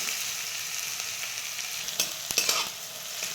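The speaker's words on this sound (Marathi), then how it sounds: "कांदा परतून घेऊ लालसर." Finely chopped onion sautés in a pan as it browns to a reddish colour, a steady close sizzle with a few sharp stirring scrapes near the end, no voices.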